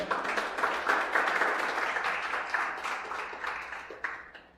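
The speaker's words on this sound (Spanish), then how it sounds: "Den un aplauso al Señor" A church congregation applauds the Lord during a Spanish-language sermon: dense, steady clapping from many hands that fills the room, then gradually thins and fades toward the end.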